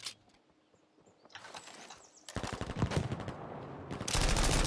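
Machine gun fire in the Battlefield V game, bursts building from faint scattered shots into a dense, loud continuous rattle toward the end.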